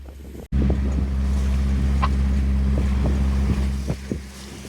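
A boat under way between Plockton and Largs, pushing slowly against a brisk southwesterly wind, gives a steady loud low engine drone with wind rumble on the microphone, and a few short knocks and splashes break through it.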